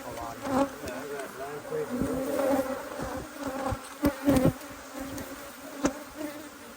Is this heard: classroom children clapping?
no